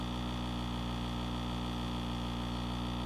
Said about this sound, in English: Sounds like a lawnmower engine.